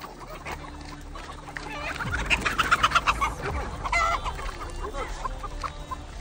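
Free-range chickens on a farm clucking in agitated bursts that swell midway into a rapid, loud run of alarm cackles, then settle into scattered calls, fairly close.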